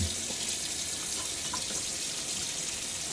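Water runs steadily from a tap or is poured into a shaving soap tub for a wet shave, a continuous close hiss and splash lasting throughout with no talking.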